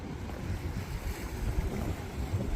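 Sea waves wash steadily at a seaside harbour with boats at Saundersfoot, a continuous rushing surf mixed with wind buffeting the microphone.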